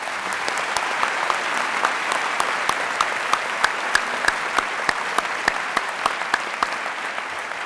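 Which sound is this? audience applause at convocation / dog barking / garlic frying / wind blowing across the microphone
audience applause at convocation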